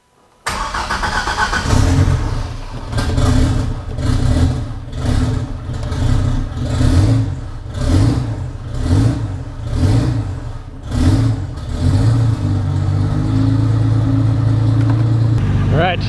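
A turbocharged Chevy Colorado with an Atlas 4200 engine on a dyno revs repeatedly in rhythmic rising-and-falling pulls, loud and close, then settles into a steady idle drone.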